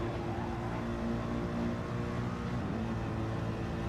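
Mercedes-AMG GT3 race car engine at the Nürburgring 24h pre-qualifying, a steady throaty droning roar heard from a distance, holding a constant tone without sharp revving.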